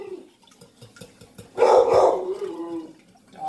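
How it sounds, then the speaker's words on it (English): A household dog barks in a short cluster of loud, close yips and barks in the middle, with quieter kitchen sounds before and after. "Dog's barking."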